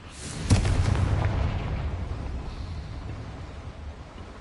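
A Confringo fire spell explodes in the video game Hogwarts Legacy, giving one sharp, loud blast with a deep boom that rolls off into a fading rumble and background hum.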